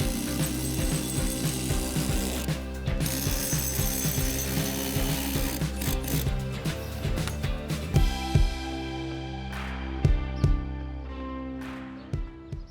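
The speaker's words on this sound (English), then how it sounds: "I better grab a screw gun and get to it." A screw gun drives screws into ROCKWOOL Comfortboard insulation on a stucco wall. The clicking ratchet-like bursts come up close and loud in a steady series, with a few sharper snaps toward the end.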